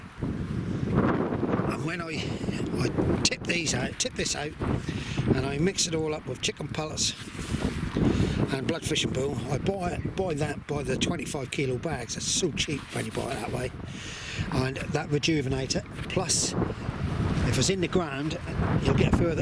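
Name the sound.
wind blowing on the microphone outdoors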